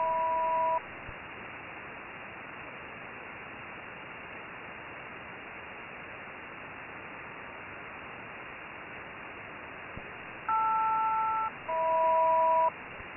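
SELCAL check tones sent over Gander air traffic control radio: a short two-tone chime at the start, a long stretch of steady radio hiss, then two more paired tone bursts near the end, with no voices.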